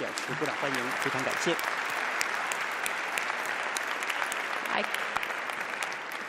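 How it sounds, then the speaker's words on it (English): Audience applause for panelists at an opening ceremony in an assembly hall, steady crowd clapping throughout, with a brief voice heard near the start. "A big applause to our panelists"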